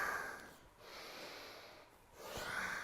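Slow breaths during a yoga pose, soft airy exhales through the nose rising and fading in a gentle rhythm, close and quiet.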